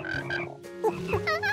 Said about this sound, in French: On peut écouter les grenouilles qui coassent